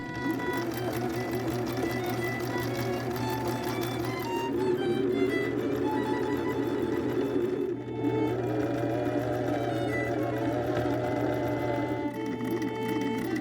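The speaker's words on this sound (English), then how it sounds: "I then sewed on the sleeves and closed up the side seams." A sewing machine runs steadily while stitching the sleeves and side seams of a homemade Jedi robe, a close, continuous mechanical whir with a brief pause partway through, no talking over it.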